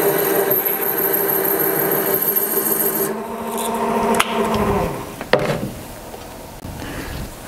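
A metal part on a Harbor Freight mini mill is scrubbed with Scotch-Brite and WD-40, giving a steady close rubbing rasp that later breaks into shorter strokes and a few sharp knocks.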